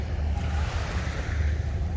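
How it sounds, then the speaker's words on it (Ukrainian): Sea waves wash continuously onto a gently sloping sandy beach at a Hurghada resort in Egypt, a full, steady surf roar mixed with wind buffeting the microphone. "Ось так виглядає пляж. Подивіться, піщаний пологий захід в море."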